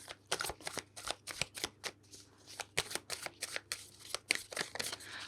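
Tarot cards are shuffled by hand in a quick riffling rhythm, a run of crisp, close flutters and slaps repeating about every half second, with no talking over them.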